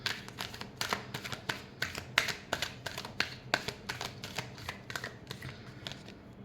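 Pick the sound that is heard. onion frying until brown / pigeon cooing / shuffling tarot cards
shuffling tarot cards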